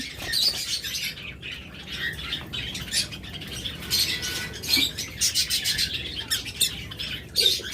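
Budgerigar pairs, including a blue opaline pair, fill an aviary with constant overlapping chirps, squawks and chatter, close and busy, with occasional wing flutters.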